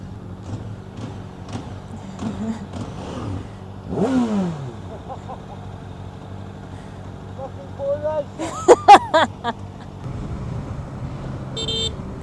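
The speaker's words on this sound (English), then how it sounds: "I actually have an exhaust that I can hear now" A new motorcycle's engine and exhaust rise and fall in a few brief revs under a rider's nearby talk, while passing traffic and a short burst of horn toots also sound.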